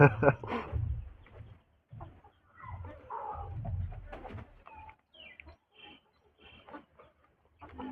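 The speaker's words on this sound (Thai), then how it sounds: "ไก่เริ่มขึ้นมากวนแล้ว" Chickens cluck close by in short, scattered bursts at a rural outdoor spot. The sounds come and go around quiet gaps, with some soft background noise.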